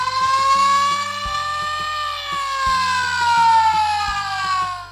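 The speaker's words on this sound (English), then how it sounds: "the silence was shattered by Sheriff's siren" Sheriff, a police car toy from Pixar Cars, sounds a steady, loud electronic siren that rises and falls slowly. A rhythmic, repeating beat plays underneath, with no talking.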